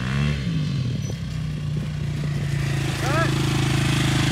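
A KTM quad engine revs loud and steady during tire burnouts in mud, with a rising whine near the end. Rough clattering runs through the continuous roar.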